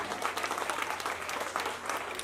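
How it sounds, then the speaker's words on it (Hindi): A crowd claps steadily throughout for a guest at a ceremony, a dense, even patter of applause with no voices on top. "बहुत बहुत तालियां आप बजाएं"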